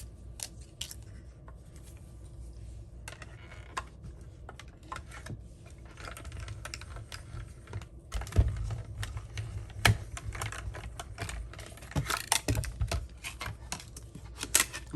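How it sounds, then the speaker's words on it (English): A Stampin' Up mini Cut and Emboss machine die cuts paper, with a run of quick clicking and ratcheting taps building to sharper clacks, close and fairly quiet with no speech. "We're going to die cut this really quickly."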